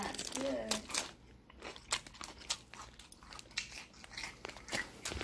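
Close, repeated crunching bites and chewing of Peter Rabbit Farms baby cut carrots, sharp crisp snaps in an irregular rhythm, with a voice speaking faintly in places.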